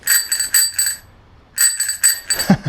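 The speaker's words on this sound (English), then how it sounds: "do you still get bike bells?" An old bicycle's bell is flicked in two quick bursts of rapid metallic rings separated by a short pause, close and fairly loud.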